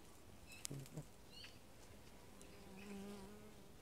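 Honey bees hum in a dense, continuous buzz close by at an open hive, with a few brief louder passes of individual bees over the steady drone.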